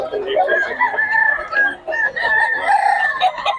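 At a busy chicken market in Bocaue, many roosters and hens crow and cluck close by in overlapping, drawn-out calls, with little pause between them.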